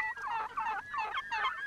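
Turkeys foraging on hillsides gobble in three rapid, warbling bursts, fairly close and clear against a quiet background.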